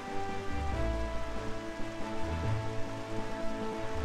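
Steady rain falls in the seafaring world of Zelda: Wind Waker, a continuous hiss on the surface over low, sustained game music tones, with no talk over it.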